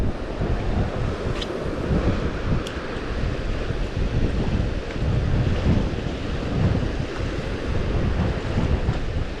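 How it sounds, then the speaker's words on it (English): Steady wind blows by a river, a constant close rushing roar buffeting the microphone with gentle swells and no talking. "Ooh, the wind's blowing a little bit."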